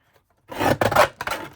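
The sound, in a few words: paper trimmer cutting card scraps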